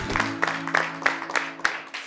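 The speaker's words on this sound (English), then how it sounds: "Another round of applause." Light, sparse clapping from a small studio audience for a children's spelling champion, a handful of distinct claps over a low electrical hum.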